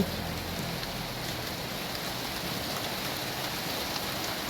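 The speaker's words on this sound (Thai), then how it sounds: "บรรยากาศอุดรธานีฝนตกเด้อมานี่ฝนตก" Rain falls in a garden in Udon Thani, Thailand, a dense, even hiss that holds steady and close throughout, with no talking.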